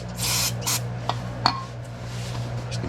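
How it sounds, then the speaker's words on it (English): Brake cleaner sprayed in two short hissing bursts, followed by faint rubbing and a few light clicks as a lint-free rag wipes a clutch surface in a workshop, close and quiet over a low background hum. "And you got a little brake cleaner, nice lint-free rag."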